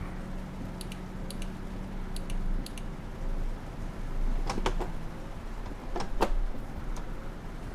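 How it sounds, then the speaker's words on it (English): An air conditioner runs in a hot room, giving a steady broadband hiss throughout, under a low engine drone and scattered clicks from a truck-driving game. "I've turned my aircon on to cool me down and to cool my computer down"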